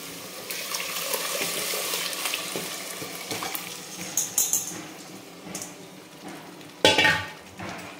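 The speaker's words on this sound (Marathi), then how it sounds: "तर आता आपण याच्यामध्ये मटण टाकून घेऊ, जे की आपण शिजवून घेतलेलं होतं" Precooked mutton goes into hot black-chilli masala in a pan for a Marathwada-style mutton curry, giving a steady sizzle and fry broken by stirring scrapes and a few sharp clanks of a utensil against the pot.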